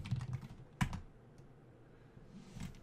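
Keys clatter on a computer keyboard during a Java beginner console-input demo, a short burst of quick taps, one sharper keystroke, then sparse faint clicks in a quiet room.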